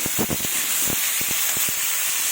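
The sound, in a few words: rohu fish frying in a covered pan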